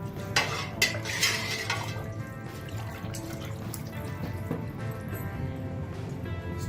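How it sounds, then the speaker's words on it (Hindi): A spoon stirs salt into water in a cooking pot, a steady close liquid swish with a few light knocks early on. "1 टेबल स्पून हम इसमें नमक का डालेंगे और इसको अच्छी तरीके से मिक्स करेंगे"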